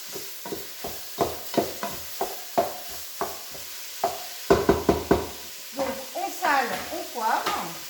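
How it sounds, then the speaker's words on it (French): Ground beef, 400 g, browns in a pan for courgette lasagne, a soft sizzle under regular knocking scrapes of a spoon stirring and breaking up the meat, close and steady. "Donc je vais mettre mes 400 g de bœuf haché directement dedans. Donc voilà, vous faites revenir le bœuf."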